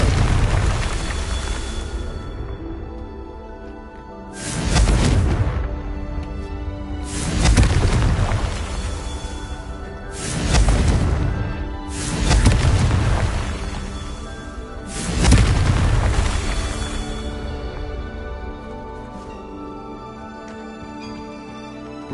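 Confringo fire spell from Hogwarts Legacy, cast repeatedly in combat: five loud booming blasts spaced about every two and a half seconds, each swelling and rumbling away over a continuous dense game soundscape.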